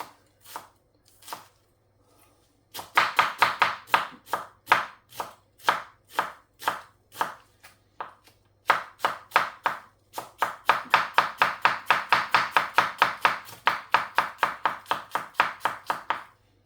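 Half an onion being chopped on a board for a lamb kofta curry, with brisk rhythmic knife strikes in close, loud bursts, including a long fast run near the end, and short pauses between runs.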